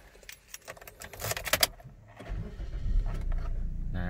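Keys jingle in the ignition of a 2018 Suzuki Ertiga GL, then the engine cranks and catches near 2.3 seconds, settling into a steady low idle close by.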